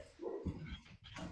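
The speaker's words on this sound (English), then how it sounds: "I am going to apologize in advance that I'm going to have to at times deal with my dogs like now." Several dogs bark and whimper in short, muffled bursts from outside a room during an online meeting, fairly loud and close with no talk over them.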